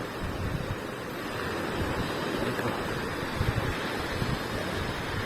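Sea waves heard from a fishing boat out on the water, a steady, loud roar of surf and rushing water with wind buffeting the microphone throughout.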